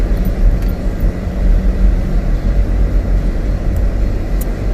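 A car driving on the road to a Hobby Lobby store, a steady loud low engine and road rumble with no other sounds on top.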